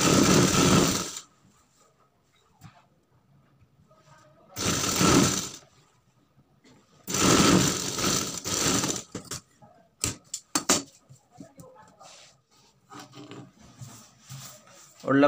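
Sewing machine stitching along the edge of a sleeve, running in three loud bursts of rapid whirring, roughly one, two and two seconds long, separated by quiet pauses, followed by scattered clicks and handling noises.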